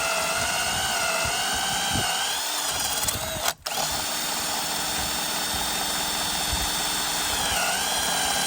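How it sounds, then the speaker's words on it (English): A cordless drill bores through wood for a lag screw while an H brace is built for a fence in the woods, a loud continuous high whine with a brief stall and dropout midway before spinning up again. "We're going to drill from the inside because that's where we marked it."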